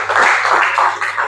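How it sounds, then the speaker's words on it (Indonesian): Classroom applause for a student, a steady burst of clapping from many hands sustained over the whole moment with a low hum beneath. "Beri tepuk tangan dulu untuk Abu."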